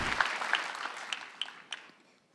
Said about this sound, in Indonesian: Tepuk tangan sekali lagi untuk Regen.